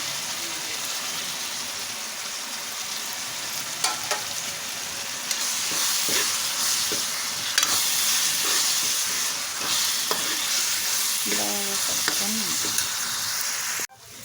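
Tomato pieces and a spoonful of chili powder frying in a pan for dal khichdi, a continuous loud sizzle with occasional spoon stirs and scrapes, growing slightly louder midway before cutting off at the end.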